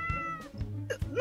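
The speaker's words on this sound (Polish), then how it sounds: "Dlatego ten kot nie może tu być!" A cat meows in the Minecraft video game, a short game-sound mew with a harmonic whine, heard close and clear over a low background drone.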